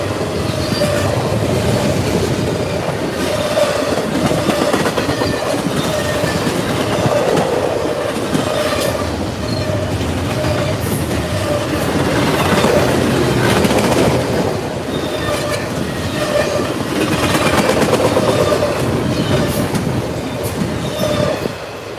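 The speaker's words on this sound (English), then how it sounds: "Long intermodal train with foreign and domestic double stacks." A long intermodal freight train with foreign and domestic double-stack containers passes at Gates, New York, with a continuous loud rumble, rhythmic clickety-clack of wheels and faint squeals, and no talking.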